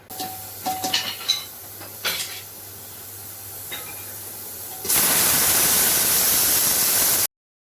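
A pressure cooker vents steam after cooking chickpeas, a loud, steady hiss that bursts on suddenly and holds for a couple of seconds, preceded by soft clinks of metal utensils and pans.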